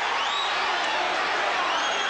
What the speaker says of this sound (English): this crowd is revved up